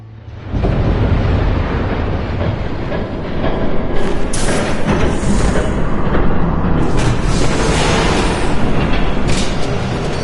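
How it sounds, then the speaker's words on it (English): In the Batman Telltale Series video game, a train roars close by, a loud, continuous heavy rumble that begins abruptly and holds steady, with bursts of hissing noise layered on top. "There's a train coming."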